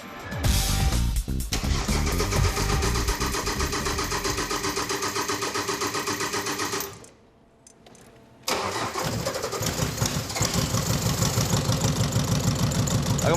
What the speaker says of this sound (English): I got my foot down, so I'm picking up the revs